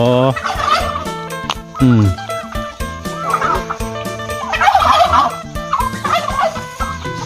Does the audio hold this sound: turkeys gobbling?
yes